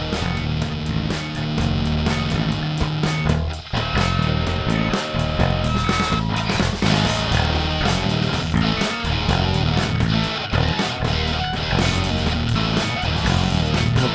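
Dense, driven music run through the Airwindows Dyno saturation plugin, with heavy saturated grit, full-band and loud, with a brief dip before it surges back in.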